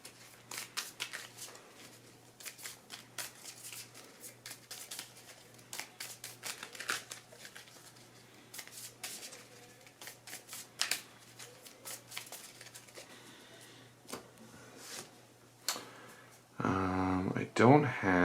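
Marvel Champions cards being shuffled on a table: a steady, soft papery riffling runs throughout, then a louder, denser burst of shuffling near the end, with a low background hum.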